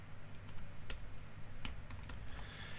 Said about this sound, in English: all you're going to do is type in sudo and then apt-get